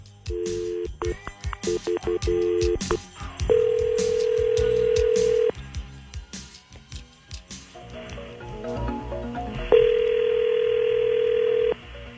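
Telephone line sounds on a prank call: a dial tone, then a steady ringback tone repeating, with touch-tone dialing beeps near the start and faint background noise, loud and close, no talk.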